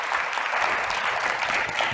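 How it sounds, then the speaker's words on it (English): A room full of people clapping steadily, a continuous wash of applause without a break. "Let's have a great round of applause"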